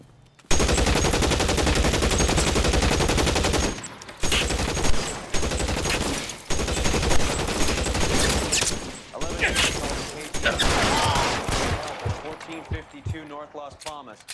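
Gunfire in the video game L.A. Noire during an officer-down shootout on North Las Palmas, a dense, loud barrage of shots and booms running almost continuously with brief gaps, mixed with other game sounds.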